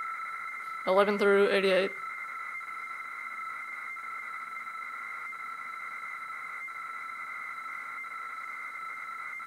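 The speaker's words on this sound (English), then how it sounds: "The higher tones are the ones, and the lower tones are the zeros in our patch data." A brief spoken phrase, then steady Roland Jupiter-8 tape save data tones, higher for ones and lower for zeros, hum on as a sustained pitched drone with faint pulsing, fairly quiet and unchanging.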